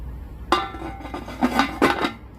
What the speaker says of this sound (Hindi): ये मैंने थोड़ा सा खुला ढकना रख दिया इस साइड से